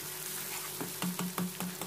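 Garlic and ginger paste frying in hot oil while stirred: a steady close sizzle with a few soft scraping strokes of the spoon in its second half.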